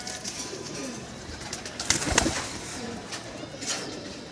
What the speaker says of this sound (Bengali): আমি কবুতরগুলো ছেড়ে দিই